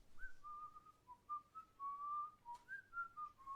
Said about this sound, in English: Wow, you're good at whistling.